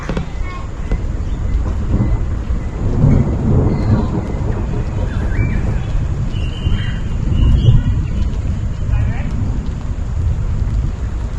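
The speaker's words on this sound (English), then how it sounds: "But the thunder is rumbling in." Thunder rolls in during a storm, a long deep rumble swelling and fading under steady rain, loud and continuous throughout.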